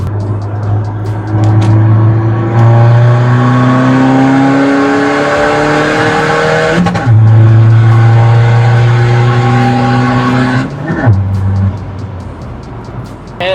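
A tuned 250 HP Skoda Fabia accelerates hard, the engine loud and close as it climbs through the revs in long pulls, with two sharp gear changes marked by brief dips before it winds up again.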